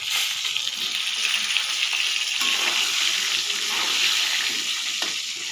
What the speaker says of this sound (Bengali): তেলটা গরম হয়েই গেছে, করে আলুগুলো একটু ছেড়ে দেব, তো লাল লাল করে আলুগুলো ভাজবো